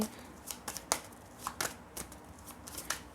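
Tarot cards are shuffled and drawn by hand, a series of crisp riffling and flicking bursts spaced irregularly, close and fairly quiet against a soft background.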